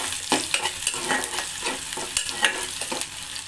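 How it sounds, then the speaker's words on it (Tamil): Onions sauté in a pan for kovakkai poriyal, an ivy gourd stir-fry, with a steady close sizzle and regular scraping stir strokes throughout. "வெங்காயம் பொன்னிறமா வதங்கட்டும்."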